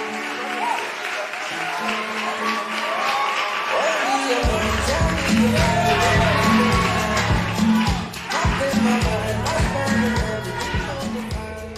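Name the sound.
audience applause for contestant Joe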